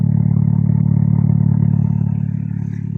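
A Toyota Starlet Glanza V idles after a cold start, its exhaust giving a steady, even, fairly loud rumble close by that eases slightly toward the end, with no voices.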